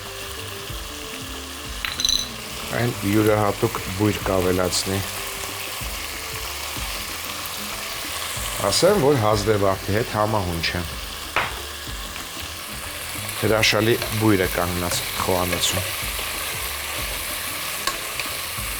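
Meat frying in a pan, seasoned with four kinds of pepper and dried basil for a sorrel and bean soup: a continuous close sizzle running under a voice talking steadily throughout.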